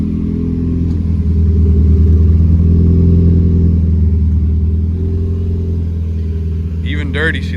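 A Mazda Miata drift car idles while warming up, a loud steady engine drone close by that swells slightly before settling, with a brief high squeak near the end.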